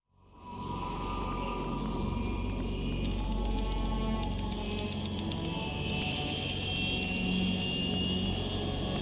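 An aircraft in the video game Metal Gear Solid 3: Snake Eater drones loud and continuous, a steady engine roar that swells in right at the start and holds unbroken to the end, with no talking.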